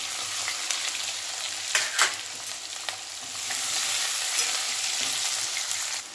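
Onion frying in oil with garlic-ginger paste and curry leaves for a Marathwada-style sambar, a steady, close sizzle with a few louder crackling pops near the start, no voices.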